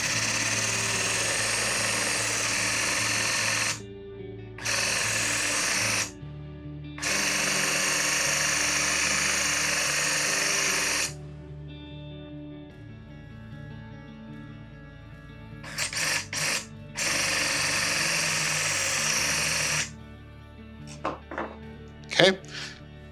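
A blade is worked through a knife sharpener for a final polish, giving several sustained grinding, whirring passes of a few seconds each, with short gaps and someone talking in between.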